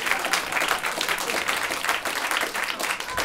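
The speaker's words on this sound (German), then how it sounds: "Da kommt Applaus auf oder was?" A studio audience at a German talk show breaks into applause, a moderately loud patter of clapping with slight swells, no talk over it.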